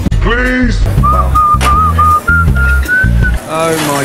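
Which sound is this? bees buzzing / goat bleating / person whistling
person whistling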